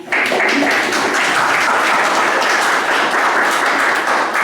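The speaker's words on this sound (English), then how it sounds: "Please clap for us." Loud, sustained clapping from a university student audience during a human rights commission talk in Zambia, dense and even from start to finish with no voices over it.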